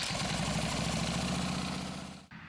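Harley-Davidson motorcycle engine running just after a kickstart, a steady loud low rumble with a dense throbbing idle that holds for about two seconds and then cuts off abruptly near the end.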